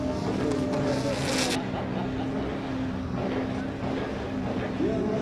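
Toyota GT86 and BMW E36 drift cars racing at a drift championship in Oman, a continuous loud engine roar with a rising whine, under faint commentary.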